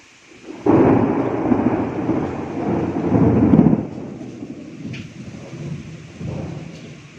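Thunder rumbles loudly over steady rain and strong gusting wind in a storm, with long rolling swells and a second rumble near the end, heard alone without talk.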